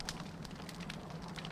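A campfire crackles steadily in the video game Don't Starve Together, a close, continuous bed of soft pops and hiss with a low rumble, heard alone without talk.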